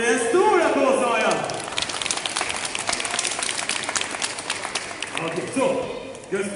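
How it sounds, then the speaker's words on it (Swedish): Audience applause at a magic show, a dense burst of clapping that swells and then fades over several seconds while someone speaks over it at the start and end. "Han borde en stor applåd,"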